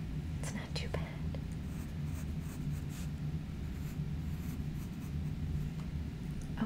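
Pencil sketching on paper in a quiet ASMR setting: soft, close scratchy strokes that come and go over a low steady background hum.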